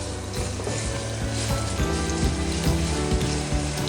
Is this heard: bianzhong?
no